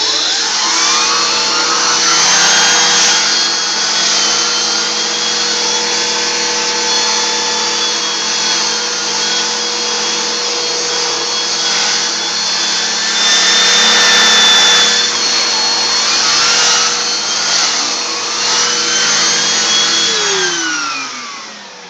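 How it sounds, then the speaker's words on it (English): A Bissell Powerforce Helix Turbo upright vacuum cleaner running steadily with a loud, close motor whine and airflow roar, the pitch shifting slightly as it moves and winding down at the end; no talking. "So that was my Bissell Powerforce Helix Turbo."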